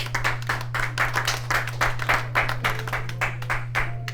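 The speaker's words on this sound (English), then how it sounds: "Big round of applause again for the South Florida Caribbean Chorale and the work of Noel Dexter" An audience applauds the South Florida Caribbean Chorale at a Christmas event, a modest group clapping in fairly regular, rhythmic bursts over a steady low electrical hum.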